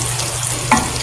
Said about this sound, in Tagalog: toast na natin itong garlic na ito para sa ating topping